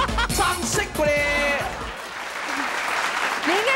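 A studio audience at a Taiwanese TV variety game show breaks into applause. Excited voices and cheers come first, then a broad, steady wash of clapping.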